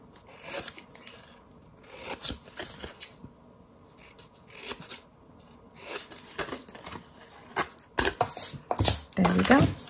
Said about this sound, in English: I'm just going to trim the tabs